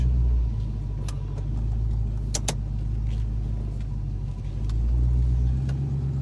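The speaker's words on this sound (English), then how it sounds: "Here we are, backing out of the driveway after the transmission fluid change and filter change" A 1994 Mustang GT convertible backs out of a driveway just after a transmission fluid and filter change, its engine idling in a steady low rumble with slight shifts in pitch and a few sharp clicks, close up.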